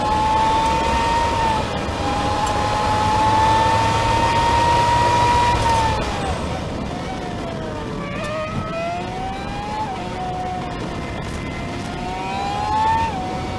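Formula 1 engine sound fitted in a car at Thruxton circuit, a high-pitched screaming wail that holds steady then dips and climbs through gear changes, loud and continuous with no talking.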